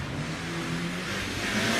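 A Mitsubishi Evo 3 rally car powers uphill at the Prescott hillclimb, a steady mid-pitched engine drone held under acceleration, moderately distant and even in level throughout.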